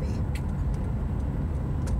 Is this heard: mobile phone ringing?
no